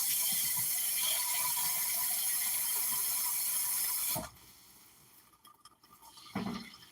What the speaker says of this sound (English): I put enough water to cover my rice.